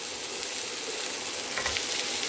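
Bitter gourd, potato and pumpkin fry in a pan with an even, close sizzle and crackle, a few stirring scrapes near the end, and no voices.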